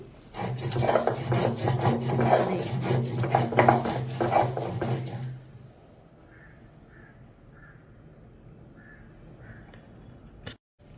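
Coarse rhythmic rasping of a stone batta rolled over a sil, grinding coriander chutney, loud and close for about five seconds, then the strokes stop and only a faint quiet background remains with one sharp tap near the end.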